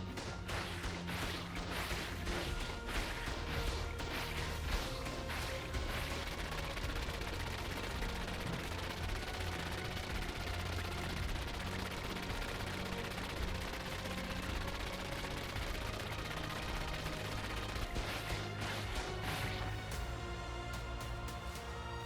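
Sustained rapid gunfire in ARK Survival Ascended, fired at a dinosaur to drain its health, a dense continuous rattle of shots running the whole time at steady loudness with no talk.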